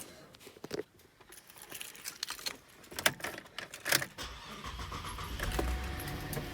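A Buick Enclave starts up after a rear brake job, with a few clicks and clunks first, then the engine catching and settling into a steady idle close by, with no talk.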